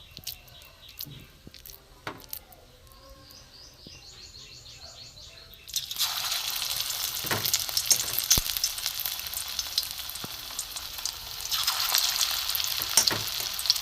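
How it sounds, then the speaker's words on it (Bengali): Drumstick flower pakoras frying in hot oil, a loud dense sizzle that bursts in at about six seconds as batter hits the pan and keeps crackling steadily, after quieter kitchen clinks and faint bird chirps. "একটা একটা করে ভেজে নেব, কম আছে হালকা আস্তে।"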